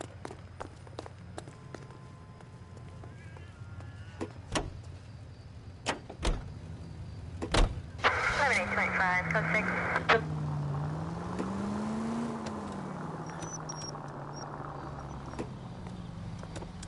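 Door clunks and clicks, then a car engine starting and revving with a rising and falling whine while pulling away in the L.A. Noire video game, moderately loud after scattered sharp knocks.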